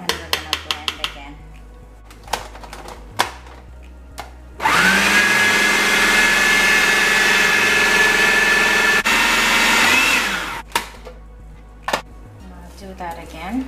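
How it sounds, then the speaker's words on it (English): Blender pulsing through shrimp choka, a few short bursts at first, then one loud sustained whirring run of about six seconds with a steady high whine, followed by more brief pulses and clicks. "Now I'm gonna scrape out the side, and we're gonna blend again."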